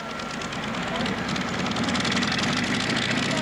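A 1,400-horsepower pulling tractor roars steadily at a 1986 tractor pull, a loud, continuous engine drone filling the whole clip, with an announcer talking over it.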